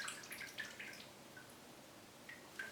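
Water drips from a small plant pot holding a Disa orchid, a few faint, close plinks scattered irregularly over quiet background, with no talking.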